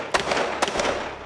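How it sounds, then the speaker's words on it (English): Three sharp, loud gunshots crack in quick succession, each a sudden burst with no talking. "it's going to be three loud gunshots"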